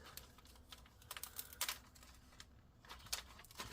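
An adhesive layer is peeled slowly inside a Lenovo Legion 5 17ARH05H laptop during disassembly, making faint, close, irregular crinkling and ticking bursts with short quiet gaps between them.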